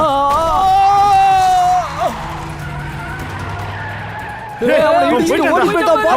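Tires squeal as a car skids while speeding toward people in a TV crime drama, a loud shrieking skid that fades and returns under excited shouting voices.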